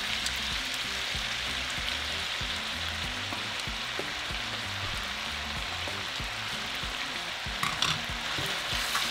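Beef ribs and nopales fry together in a pan with a steady, dense sizzle and occasional stirring scrapes throughout, fairly close and without any voices.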